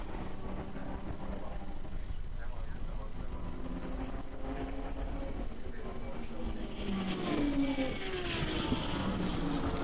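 Touring race cars approach on the BalatonPark circuit during an endurance race. Their engines build from a distant drone into louder, rising whines as the cars near, under continuous commentary.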